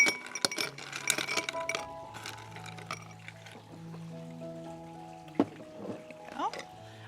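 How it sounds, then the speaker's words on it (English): Ice cubes clink and rattle into a cocktail shaker for a large-batch espresso martini, with a cluster of glassy knocks up close at first, then scattered clinks, while a person speaks over it. "I'm just going to add some ice to my shaker real quick"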